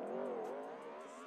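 A motorbike in the GTA V video game revs with a faint, steady buzzing engine whine that bends slightly in pitch across one short stretch.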